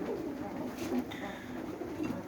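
Soft, low cooing from Budapest pigeons in a loft, a faint murmuring that comes and goes over a constant background hum.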